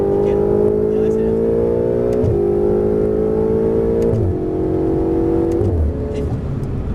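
Ferrari 488 on the Castellet circuit, its engine note climbing steadily through the revs, shifting up and pulling again three times in a row, loud and close from inside the car.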